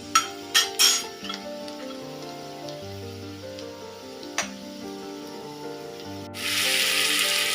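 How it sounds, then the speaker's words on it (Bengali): A paste of yogurt, mustard, green chili and Kashmiri chili powder goes into a hot pan for rui fish in mustard sauce. Soft melodic tones and a few clicks lead up to a sudden loud, steady sizzle at the end. "এবার আমি পেস্টটা ঢেলে দিলাম।"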